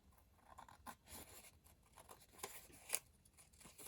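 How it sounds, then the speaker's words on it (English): Several short, crisp snips of scissors cutting paper, close by and fairly quiet, with small rustles between cuts. "So now we are going to take our scissors"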